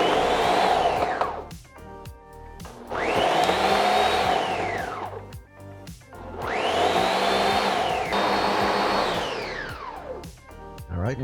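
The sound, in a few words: Ninja Foodi Power Blender blending mango and orange juice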